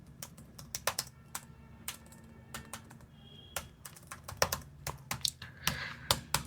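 Steady typing on a computer keyboard while entering ledger names in Tally Prime accounting software: a close, uneven run of crisp key clicks over a low background hum, with no talking.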